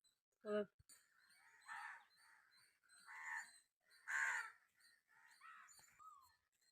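Crows give a series of harsh, spaced caws, some louder than others, in an otherwise quiet outdoor setting.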